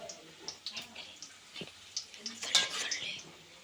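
Mustard seeds splutter in a little hot oil in a pan, giving faint scattered pops and soft sizzling crackles, close but quiet, with a brief louder burst partway through.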